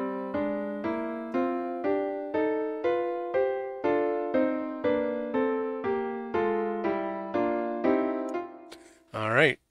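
Original melodic phrases heard against their reflected and reversed versions: a regular sequence of bright pitched notes with strong overtones, each struck and decaying in a steady pulse, clear and alone, ending with a brief burst of different sound.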